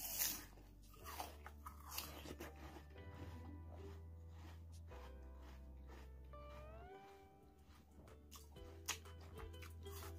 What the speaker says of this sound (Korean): 완전 아삭아삭하고 진짜 새콤달콤하네요